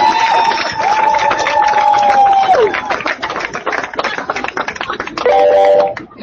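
Audience applause and cheering during a speech, loud clapping and crowd noise with whistles and shouts over it, a long whistle in the first half and another near the end, then tapering off.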